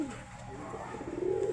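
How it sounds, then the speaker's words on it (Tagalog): Pigeons coo softly from a flock of birds flying past, faint and somewhat distant, with a low steady background of ambient noise. "Grabe mga ibon."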